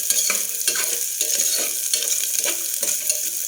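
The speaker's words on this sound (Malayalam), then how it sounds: "ഒഴിച്ചിട്ട് നമുക്ക് തേങ്ങാക്കൊത്തൊന്ന് വറുത്തെടുക്കണം" Coconut pieces fry in a pan for a kalathappam, a dense steady sizzle with a scraping stir repeating every half second or so, close and continuous with no voices.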